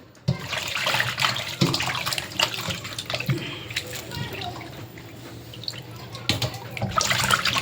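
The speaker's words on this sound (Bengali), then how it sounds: "তাও আগে ভালো করে ধুয়ে নিতে হবে।" Small sea fish being washed in water by hand, with splashing, sloshing and dripping close by while someone talks over it.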